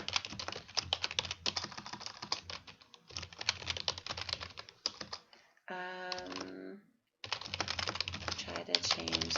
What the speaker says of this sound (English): I'm just gonna type in the chat.